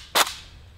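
A single sharp rifle shot, a 60 grain Wolf bullet fired into a watermelon outdoors, a loud close crack with a short tail fading into quiet.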